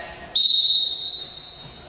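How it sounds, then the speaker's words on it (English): A referee's whistle at a wrestling match gives one loud, sharp blast that starts abruptly, holds steady, then trails off, standing alone without talk. "I'm going to blow the whistle, and James is going to give what's called an"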